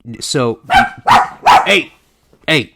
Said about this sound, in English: We always bring our landlord's dogs in, and then they always bark.